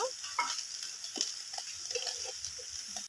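Food frying softly in a pan and being stirred, a faint steady sizzle with light scattered scraping touches, quiet and close.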